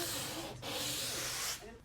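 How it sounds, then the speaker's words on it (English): Light hand sanding with 220 grit sandpaper over a sealer coat in a laundry room makeover, two long rasping back-and-forth strokes with a brief pause between, close and steady. "I'm going to do a light sand with some 220 grit sandpaper."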